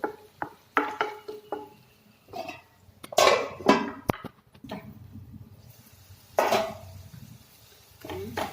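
Onion and tomato stirred in a pan with a spoon, giving intermittent clinks, taps and bursts of scraping, some louder and longer, separated by short quiet gaps, close by with no talk.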